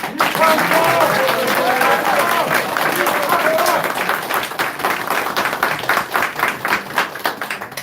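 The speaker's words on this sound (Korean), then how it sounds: "다시 한번 힘찬 응원의 박수 부탁드리겠습니다" A crowd applauds steadily at a political press conference, dense clapping filling the space, then thinning into scattered individual claps toward the end.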